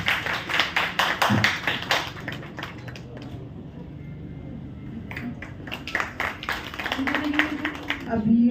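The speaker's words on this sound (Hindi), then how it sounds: "सभी जोरदार तालियों से" Loud clapping from an audience at an Inner Wheel Club gathering in Delhi welcoming the club president, dense at first, thinning to a lull, then swelling again with a voice speaking over the end.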